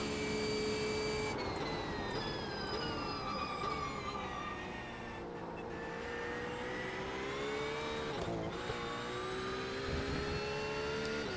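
A Porsche GT3 flat-six race car in the iRacing sim holds a loud, sustained, whining engine note, with pitch sweeps and brief dips as it shifts and rides long stretches flat out.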